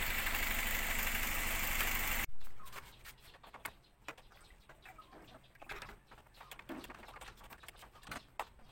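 A Toyota Avanza engine idles with a rough, loud hum that cuts off abruptly after about two seconds, followed by quieter knocks, clicks and faint background sounds.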